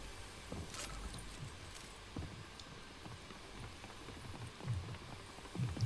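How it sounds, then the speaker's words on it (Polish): Running footsteps in Fortnite, a steady patter of quick thuds at middle distance amid game ambience, with a few heavier impacts toward the end. "Biega ktoś."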